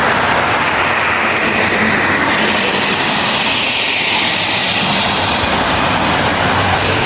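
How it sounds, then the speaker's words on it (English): Loud traffic roars past close by, a dense, steady wash of tire and engine noise with slow swells as vehicles go by. "these cars about to have me spaz the hell out. They're so loud."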